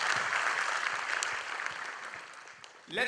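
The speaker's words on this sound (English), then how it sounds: "Let's have a round of applause, Mr. Naman Kishore." An audience at an engineering event claps together in a dense, fairly loud burst that gradually thins out before a voice speaks at the very end.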